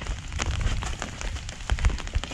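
Rain falls in a Philippine province, a soft patter with scattered drops striking nearby surfaces, faint and close, with no talking.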